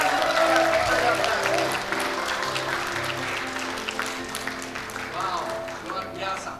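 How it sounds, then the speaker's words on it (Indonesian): Wedding guests applaud the newly married couple at a church blessing ceremony, a steady dense clapping that is loud at first and eases slightly, with an announcer's voice and music running underneath. "Tepuk tangan"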